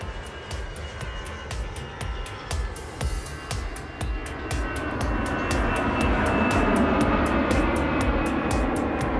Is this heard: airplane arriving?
yes